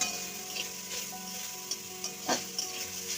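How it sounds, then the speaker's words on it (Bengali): Drumstick flowers fry in oil in a pan with a bright, steady sizzle, punctuated by a few light spatula taps and scrapes. "এবারে আমি ফুলগুলো ছেড়ে দিচ্ছি একদম অল্প হয়ে গেছে পাওয়া তো যায় না দিয়ে একটু ভাজি ভাজি করে নিচ্ছি"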